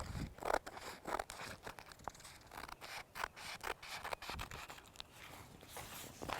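Paper shears snipping along the edges of paper outdoors beside a boat, a run of short crisp cuts and crunches spread through the clip at close range, with light rustling between them.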